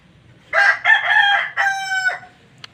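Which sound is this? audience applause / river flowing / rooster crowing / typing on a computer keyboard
rooster crowing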